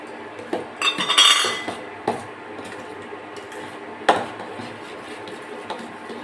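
Sugar goes into urad dal payasam in a pot, heard as a few sharp metallic clinks and spoon scrapes against the vessel, scattered and fairly quiet with gaps of near silence between them.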